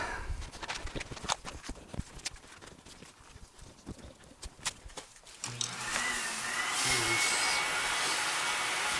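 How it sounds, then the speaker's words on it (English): A household vacuum cleaner whooshes on about halfway through and runs as a loud, steady drone, following a stretch of irregular clattering knocks and taps nearby. "And there goes the house vacuum."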